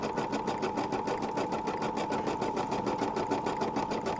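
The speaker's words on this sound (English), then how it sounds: "now it's doing the sew out of the ribbon area" An embroidery machine stitches out a ribbon area on an ornament, a loud, steady rapid rhythmic whirring and clatter of the needle running continuously up close.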